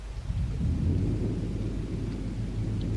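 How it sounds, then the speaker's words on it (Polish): Deep, sustained rumble of thunder from a storm about nine kilometres away, rolling loudly and steadily throughout, with a faint hiss of rain beneath. "No burza."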